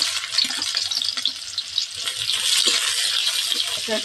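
Greens fry in hot oil with a loud continuous sizzle and crackle, with occasional stirring scrapes and knocks underneath, close up.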